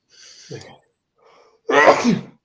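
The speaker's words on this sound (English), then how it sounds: "I'm going to sneeze. Oh no!" A single loud, explosive sneeze comes after a short breathy build-up and a brief voiced sound.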